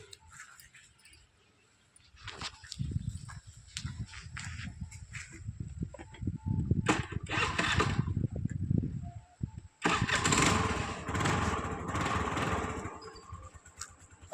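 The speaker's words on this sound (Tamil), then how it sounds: "வண்டி ஸ்டார்ட் பண்ணுறோம் பாருங்கள்." A 2012 Honda Activa scooter starts after several cranking bursts with clattery handling noise between them, then settles into a close, steady idle.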